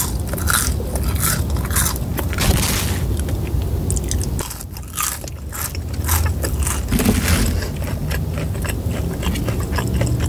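Crunchy Burger King fries being bitten and chewed up close inside a car, with loud, steady crisp crunches and wet chewing continuing throughout and no talking.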